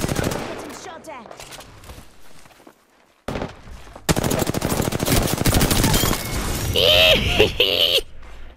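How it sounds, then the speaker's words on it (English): Rapid automatic gunfire in the battle royale game Apex Legends, starting with scattered shots and then breaking into a loud, dense, continuous stream of close bursts, with voices and game effects mixed underneath. "Getting shot at."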